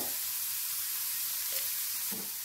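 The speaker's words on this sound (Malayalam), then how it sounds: "മഞ്ഞൾപ്പൊടി ഇട്ടതിന് ശേഷം ഇതൊന്ന് മൂപ്പിക്കാം" Bitter gourd stir-fries in a pan after turmeric powder goes in, giving a steady close sizzle and hiss throughout, with a couple of soft stirring scrapes and no talking.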